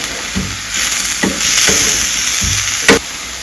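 Carrots and green peas sauté in a pan for homemade bakery-style veg puffs, giving a steady broadband sizzle with scattered stirring scrapes and one sharp clack near the end.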